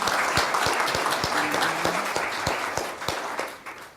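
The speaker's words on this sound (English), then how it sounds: "So a round of applause for our panelists." Applause for panelists at a rural water management session, a steady burst of clapping from a room audience that tapers off at the end.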